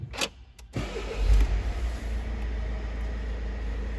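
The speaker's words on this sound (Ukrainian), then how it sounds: "запуск двигуна кнопкою" A click of a push-button start, then a 2017 Peugeot 3008 engine cranks and catches, settling into a low, steady idle rumble close by.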